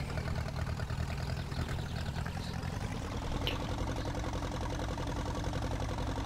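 A tractor engine idles steadily in the farming video game Farming Simulator 19, a constant low mechanical hum with a faint rhythmic pulse that holds at an even level throughout, with no speech over it.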